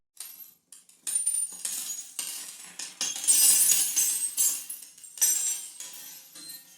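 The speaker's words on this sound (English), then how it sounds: "These sounds could be as random as coins falling" Coins tumble and clink in a scattered cascade of bright metallic jingles, close and fairly loud, with no voices.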